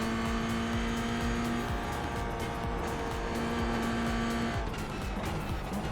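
GT4 race cars roar past on a track in the racing simulator iRacing, engines droning with shifting pitch as tires squeal and skid, several cars sweeping by loud and close.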